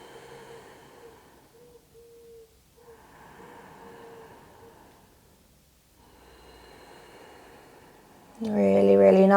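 Slow, steady breaths drawn during a yoga half splits pose in a morning flow, soft and close, with quiet inhales and exhales in a gentle rhythm before a voice begins speaking near the end.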